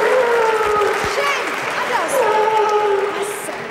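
A television studio audience applauds during a German entertainment show, the clapping steady and broad beneath a loud, close voice talking over it for the full few seconds.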